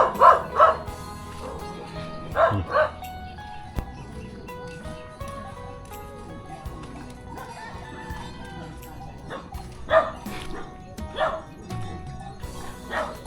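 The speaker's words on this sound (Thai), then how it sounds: "มาเห่าแล้ว" A village dog in a rural area near the Laos–Vietnam border barks in several loud, sharp bursts, some paired in quick succession, close by with quieter background sounds between barks.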